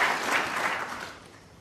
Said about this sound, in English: Acknowledgement from the crowd.